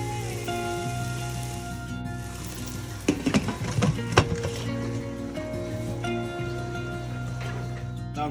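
Dal chicken curry cooks in a pot with a steady, soft sizzle. A brief burst of clattering stirring and knocking comes midway, then settles back to a gentle, continuous bubbling fry.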